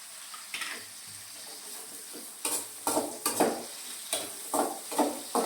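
Shallots, garlic and dried chillies fry in a pan with a steady hiss, broken by repeated bursts of scraping and stirring that come in quick clusters, close and clear, with no talking.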